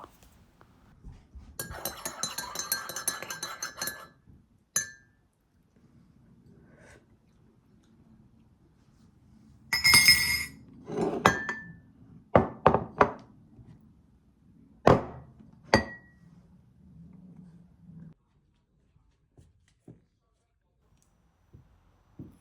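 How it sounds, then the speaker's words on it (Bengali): Breakfast eaten at home with cutlery clinking against dishes and glass, a dense burst of clatter, then scattered knocks and clinks separated by quiet gaps, close by, with a brief murmur of speech. "এখন আমি আমার নাস্তাটা খেয়ে নেব"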